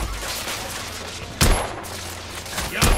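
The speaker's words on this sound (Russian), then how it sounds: "Тут еще стреляют." Gunfire in The Order: 1886 rings out as two sharp, loud bursts about a second and a half apart, each ringing briefly over a low, steady background rumble.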